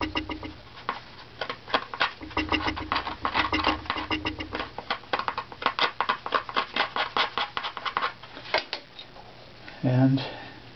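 A scraper works evenly across a strip of a violin top plate during tuning, producing many rapid, close scratchy strokes in an irregular rhythm over a quiet background, with a louder thump near the end.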